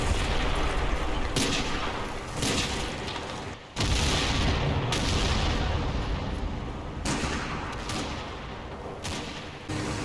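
Soldiers fire weapons in Combat Mission during a World War II assault on Stoumont, with a dense, continuous roar of gunfire punctuated by heavier booming bursts and one short lull.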